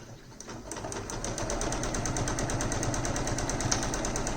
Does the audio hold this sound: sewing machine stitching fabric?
yes